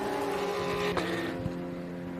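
A Thunder silhouette race car, a big V8 with a plastic body on a tubular frame, passes at a summer circuit race in Pärnu, its droning engine note holding steady with a couple of sharp clicks.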